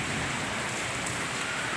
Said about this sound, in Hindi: अब हो रही है बारिश, तो इस बारिश की वजह से थोड़ा मूड अच्छा है